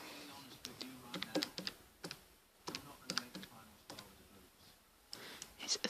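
Calculator buttons pressed to enter a division problem during a higher-tier maths exam walkthrough: a quick series of small, light key clicks in uneven bursts, with a voice talking intermittently alongside.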